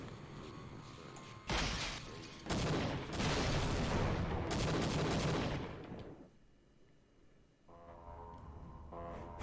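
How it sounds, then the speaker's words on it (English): A mirror shattered by a laser in Half-Life: Opposing Force erupts in a loud, sustained crackling burst of destruction lasting several seconds, with sharp onsets and a fading tail before quieter ambient hum returns. "we destroyed the mirror there"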